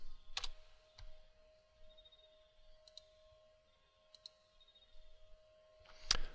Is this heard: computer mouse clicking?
yes